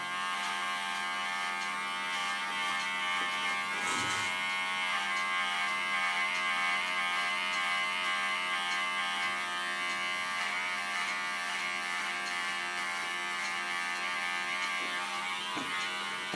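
An electric hair clipper buzzes continuously while cutting hair at the back of a head, a steady close-up motor hum with slight changes as it moves through the hair, with no speech.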